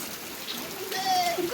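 Steady rain patters and hisses on surfaces, a soft continuous wash of drops with a faint bird call in the background.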